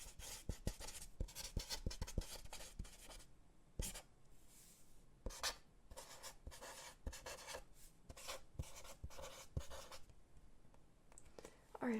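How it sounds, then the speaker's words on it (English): Pen or pencil writing on paper in a close, quiet ASMR setting, with rapid scratchy strokes in bursts, brief pauses between words, and soft rubbing of the page. "Well, I'll write that down then."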